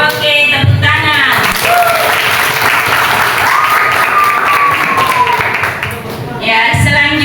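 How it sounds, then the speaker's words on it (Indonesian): A classroom of students breaks into steady, dense applause, loud and close, with a teacher's voice briefly heard over it. "Oke, tepuk tangan."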